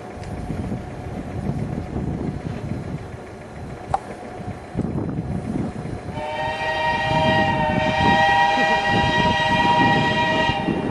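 A 750 mm narrow-gauge railway train on the Alsunga–Kuldīga line rumbles steadily, then a loud horn or whistle sounds with sustained tones over the running noise, with no voices.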